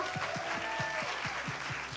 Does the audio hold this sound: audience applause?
yes